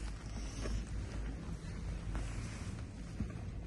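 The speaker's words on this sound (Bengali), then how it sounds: "জল কোথা থেকে আসছে ছিটে ছিটে জল পড়ছে" Water sprays and spatters down at Shymbulak Ski Resort in the mountains near Almaty, Kazakhstan, making a steady, close, broad hiss with light rumbling underneath and no voices.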